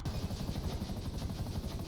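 A helicopter flies in the GTA video game, a faint, steady rotor chop pulsing rapidly with a whining engine drone, alone without talk.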